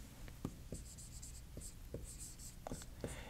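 Marker or chalk writing an equation on a board, heard as a faint run of short scratchy strokes with small taps at irregular intervals, with no talking over them.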